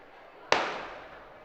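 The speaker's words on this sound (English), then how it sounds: "we await the gun" A single sharp starting gun shot at a high school track championship race, loud and sudden after near silence, followed by a long, fading echo across the open stadium.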